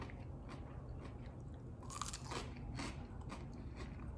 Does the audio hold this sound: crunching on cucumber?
yes